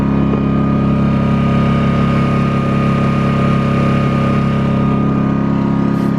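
A Pulsar 2300 portable inverter generator idles with no load at about 4,100 RPM, giving a steady, continuous low engine hum with an even drone throughout and no speech.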